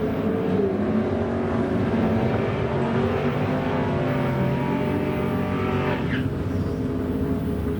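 Engines of a 1967 Chevrolet Camaro and a 1963 Chevrolet Nova at a drag strip race, a loud steady roar sustained throughout with a rising whine near the end, no talking.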